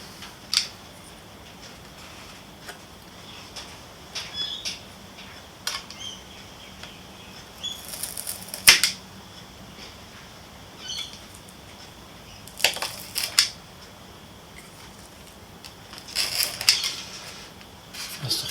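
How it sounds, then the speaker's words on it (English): Scissors cut out a marked wing part in a quiet room, giving scattered bursts of crisp snipping and rustling with pauses between cuts. "I've marked the line on both sides, and I'm going to cut that out now."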